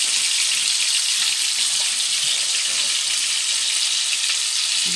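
Olive oil sizzles in a frying pan on a small home kitchen stove before asparagus goes in. It gives a steady, even hiss for the whole stretch with no talking.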